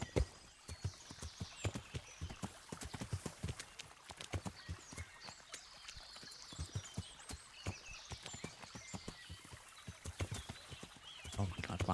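A horse in the video game Kingdom Come: Deliverance walks and trots with steady, close clip-clop hoofbeats on hard ground, a rapid regular rhythm throughout with a faint whinny.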